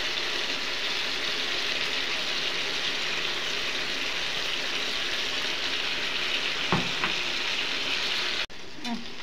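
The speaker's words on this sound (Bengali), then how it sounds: "এই যে মশলাটার সাথে একসাথে মাংসগুলো কষায় নেব।" Chicken pieces fry with masala paste in a pan, giving a steady, moderate sizzle that runs throughout, with a couple of brief scraping clinks from stirring near the end.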